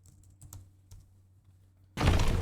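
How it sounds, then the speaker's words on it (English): Close keyboard typing on a computer during a Boxes: Lost Fragments puzzle game session, scattered soft key taps in short bursts, faint, ending in a sudden loud burst of broadband noise. "So you can hear my keyboard again."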